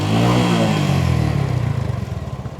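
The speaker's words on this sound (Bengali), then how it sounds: "আশা করি আপনারা আমাদের বাইকের সাউন্ডটা শুনতে পেরেছেন" A second-hand motorcycle engine runs close and loud, a dense steady idle that settles into a throbbing, pulsing beat toward the end, with no talk.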